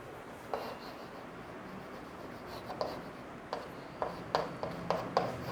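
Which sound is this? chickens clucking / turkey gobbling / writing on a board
writing on a board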